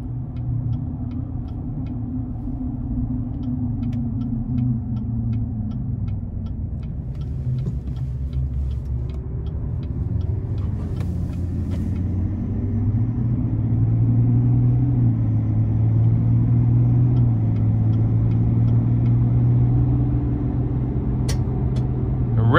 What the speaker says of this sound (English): The engine just sounds so great.